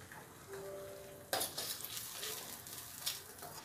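Spices with cinnamon, cloves and cardamom frying with paste for a dhaba-style chicken curry; faint scraping and a soft tone give way to a sudden, louder sizzle with stirring clatter.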